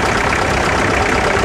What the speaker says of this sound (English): It's a 1952 Ferguson T20. It's a working tractor all its day.